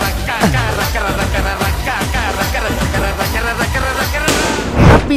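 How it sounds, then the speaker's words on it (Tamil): Diwali firecrackers burst in rapid succession at close range, a dense crackling barrage of loud pops and bangs with a heavier blast near the end, voices audible beneath. "உனக்கு எப்படி எப்படிலாம் வெடி வெடிக்கணும்னு அண்ணன் சொல்லித்தரேன்"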